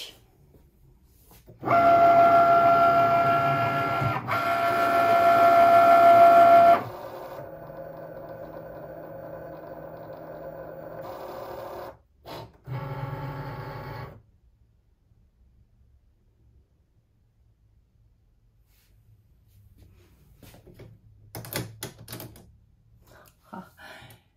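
A Cricut Maker cutting machine working through leather, a loud steady mechanical whirr with rhythmic carriage movement in bursts over the first several seconds, then quieter motor runs and near silence.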